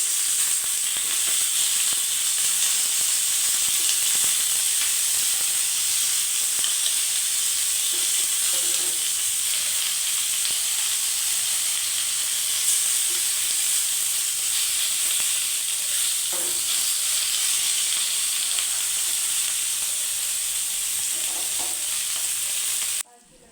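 Sardines fry in coconut oil with a loud, continuous sizzle and hiss. Occasional stirring clinks sound close by, and the sizzle cuts off abruptly at the end, with no talk over it.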